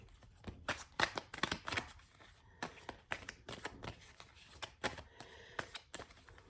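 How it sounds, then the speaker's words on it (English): Tarot cards are shuffled in quick, crisp bursts of riffling and snapping, close and fairly quiet, with short pauses between rounds. "2 cards already shuffling"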